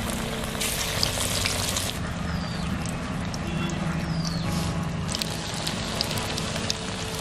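Mutton fat and rice flour pakoras frying in hot oil, a steady, close, loud sizzle with crackling pops that runs without break from start to end.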